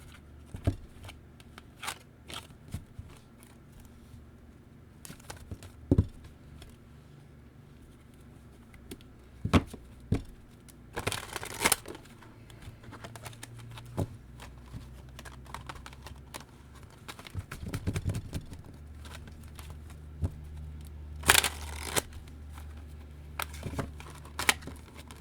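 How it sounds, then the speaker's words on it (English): A deck of tarot cards is shuffled by hand in a quiet room, giving irregular bursts of papery riffling and sharp card snaps with pauses between, close and moderately loud, with no talking. "I'm having trouble shuffling today."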